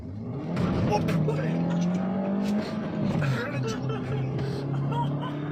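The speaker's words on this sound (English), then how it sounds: "Yes, it does wheel spin." A first-generation Honda Jazz revs hard and spins its wheels, the engine note rising and falling in loud surges with tire noise, while people talk over it.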